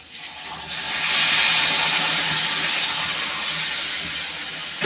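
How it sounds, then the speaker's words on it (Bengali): Hot water pours into a pan of potatoes cooking for a paneer and potato curry, setting off a loud, steady sizzling hiss that swells within the first second and then holds, with no one speaking. "এখন এই যে গরম জলটা দিয়ে দিচ্ছি"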